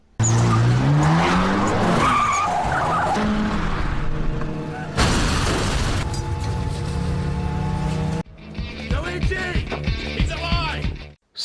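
A racing car crash in the film Initial D, with loud engines and long tire squeals and skids, a sudden crash burst, then a quieter stretch of rumbling and scattered impacts.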